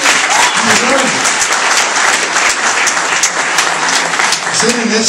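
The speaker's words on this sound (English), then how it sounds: "Give him a round of applause." Sustained applause from an audience at a Republican political gathering with Lt. Gov. Kottkamp, loud and steady throughout with a few voices and cheers mixed into the clapping.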